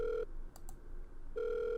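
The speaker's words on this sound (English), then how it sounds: "the line finally rings" A telephone line rings in the video game The Letter: two loud electronic ring bursts separated by a short pause, alone with no talk.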